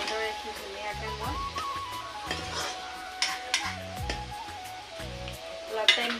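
Chicken pieces with taro, seasoned with turmeric and salt, sizzle in a pan while a utensil stirs and scrapes intermittently; someone talks over the moderate frying sound.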